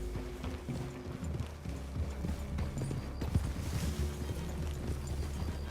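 Horses walk in Red Dead Redemption 2, hooves clip-clopping in an irregular rhythm at moderate distance, quiet and continuous over low outdoor ambience.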